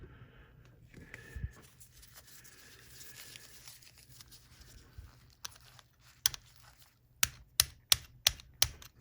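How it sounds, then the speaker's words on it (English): Sharp metallic taps on the stack of a Singer 500 sewing machine, sparse at first and then a quick run of evenly spaced knocks, close and fairly loud in a quiet room. "Now I'm just tapping it a bit"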